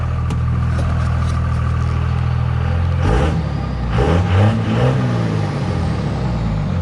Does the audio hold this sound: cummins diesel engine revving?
yes